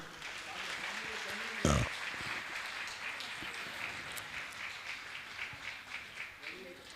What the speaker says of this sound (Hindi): तालियां तो बजाइए आप लोग